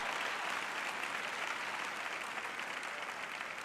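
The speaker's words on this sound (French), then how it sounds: "j'ai 3 personnes qui applaudissent là-bas" A small group of three people applauding in a room. The clapping is continuous and fairly soft, lasting a few seconds, with no voices over it.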